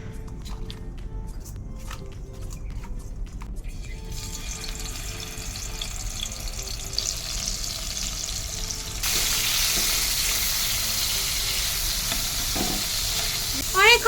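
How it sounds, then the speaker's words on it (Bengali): Bombay duck (lote) fish frying in a pan for biryani: steady sizzling hiss throughout, growing louder and brighter partway through, with a few faint clinks near the end and no talk. "ভাজা চলছে"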